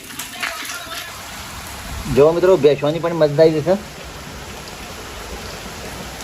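Steady rain hisses outdoors at a mango-picking spot, a constant broadband patter throughout, while a voice speaks briefly over it in the middle.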